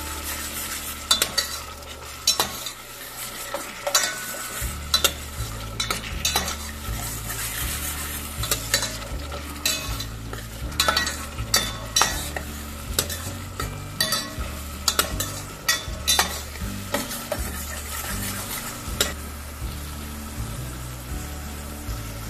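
Vegetables fry and sizzle loudly in a pan for a spicy Kolhapuri-style vegetable mix, with a steady hiss and repeated rhythmic stirring scrapes throughout.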